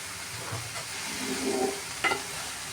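Spinach stir-fry (cheera thoran) being stirred in a pan, a soft steady sizzle with scraping and tossing, a sharper clatter of the spoon near the end.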